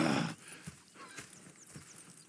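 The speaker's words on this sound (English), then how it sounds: "Go check the horses are ready." Horses in the video game Red Dead Redemption 2 neigh briefly, then hooves clip-clop at a slow walking pace, fairly quiet and a little distant.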